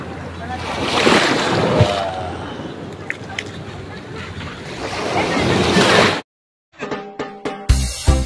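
Sea waves washing onto the shore at Morong, Bataan, a loud continuous surf roar with wind buffeting the microphone, rising and falling over several seconds before cutting off abruptly.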